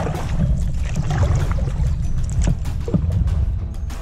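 Paddleboard paddle strokes pulling through open water, a near, continuous wash and splash with repeated soft dips and swirls, without speech.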